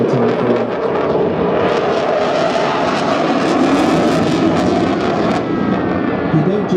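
Eurofighter Typhoon jet fighter roaring past at a seaside air show in Clacton-on-Sea, a loud, steady broadband engine rumble that swells slightly mid-pass, with faint crowd or commentary voices mixed underneath.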